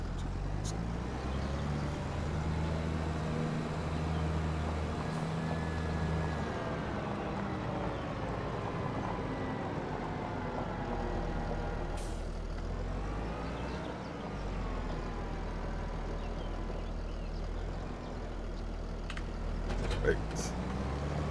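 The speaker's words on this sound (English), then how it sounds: "All right, first time I've actually got to use this tractor." A tractor engine in the Farming Simulator 25 game drones steadily and fairly close, its low hum shifting pitch as it drives, with a player talking over it throughout.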